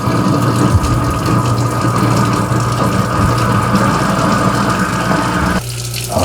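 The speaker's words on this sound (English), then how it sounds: "You're gonna leave the garbage disposal on for 1 minute." Garbage disposal running with an Active cleaner tablet in a kitchen sink, a steady loud churning whir with rushing water, continuous throughout and cutting slightly near the end.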